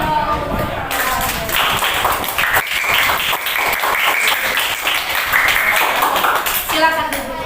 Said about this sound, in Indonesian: Oke, tepuk tangan dong untuk